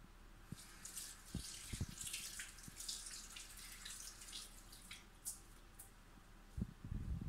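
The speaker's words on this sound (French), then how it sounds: "on n'oublie pas de bien se laver les mains après chaque utilisation d'œuf" Water runs from a tap as hands are washed in a kitchen during egg-based muffin baking, a faint, steady stream with a few soft splashes and clunks, quiet and without voices.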